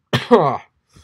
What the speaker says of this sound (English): Jeez, I'm like coughing, man.